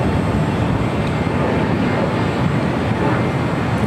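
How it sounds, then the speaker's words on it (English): An Alaska Airlines Boeing 737-800 from Guatemala City goes around at LAX, a loud, continuous jet engine roar filling the whole stretch at a constant level, with no talking. "Alaska Airlines Flight 1354 coming from Guatemala City, a"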